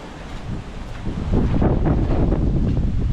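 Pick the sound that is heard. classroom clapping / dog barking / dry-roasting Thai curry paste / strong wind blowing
strong wind blowing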